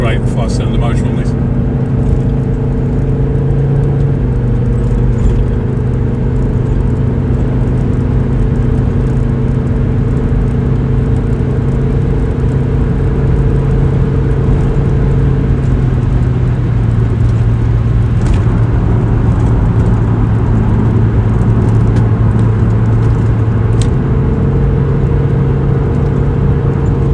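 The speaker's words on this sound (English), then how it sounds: "Sounds great, the 5-cylinder motor on this." A 1997 Volvo 850R estate with an automatic gearbox and five-cylinder engine drives along, its engine note droning steadily and rising and falling in pitch as it runs through the gears, with road rumble beneath and a voice talking over it.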